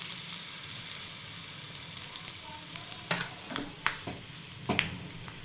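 Cut dried red chillies dropped into hot oil for a tempering of arai keerai kadaiyal, a soft continuous sizzle with several sharper crackling pops toward the end, no voices.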